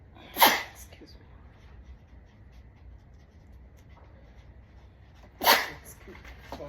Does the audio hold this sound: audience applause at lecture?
no